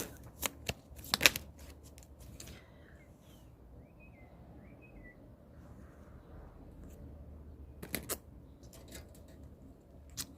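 Tarot cards shuffled by hand, with crisp riffling bursts at the start and again near the end, separated by a quiet stretch with faint birdsong in the background.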